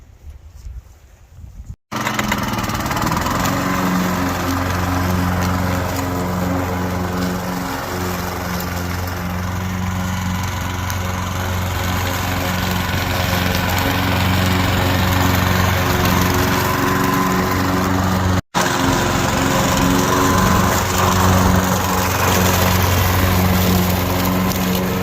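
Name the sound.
Husqvarna 42-inch riding lawnmower engine running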